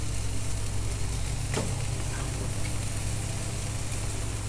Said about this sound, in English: We're back flipping the meat again